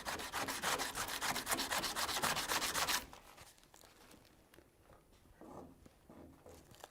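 Plastic door trim rubbed hard to strip off old adhesive, a loud steady scrubbing for about three seconds, then quieter scattered scrapes and light rubbing.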